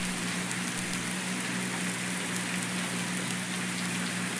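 Steady rain from the Farming Simulator 19 video game, with the Seasons and Precision Farming mods, falls as a dense, even hiss that holds constant throughout. A low, faint hum sits beneath it, and no one speaks.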